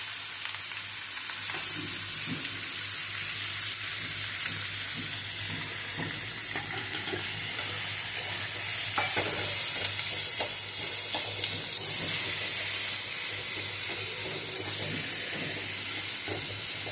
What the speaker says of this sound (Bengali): লবণ আর হলুদ দিয়েছি। আলুটাকে একটু ভাজা ভাজা করে নেব